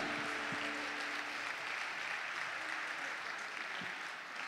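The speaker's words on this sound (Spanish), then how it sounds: "Le puede dar nuevamente un buen aplauso a nuestro Señor Jesucristo" A church congregation claps steadily throughout, a dense, even wash of applause with a couple of brief low thumps near the start and end.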